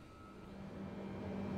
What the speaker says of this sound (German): und zünden das rechte Triebwerk